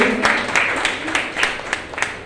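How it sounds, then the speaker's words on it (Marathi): An audience at a speech event claps for a speaker, a steady patter of hands with sharper individual claps standing out, fairly close and loud for the whole short stretch. "तर एकदा ज्योतिताईंसाठी जोरदार टाळ्या होऊन जाऊ."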